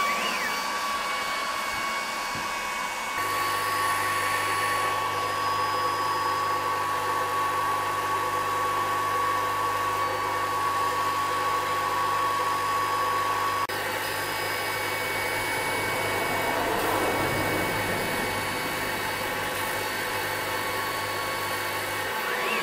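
ACMER P2 33W desktop laser cutting 9mm hardwood ply, a steady loud whirring hum of fans and air assist running continuously with little change throughout.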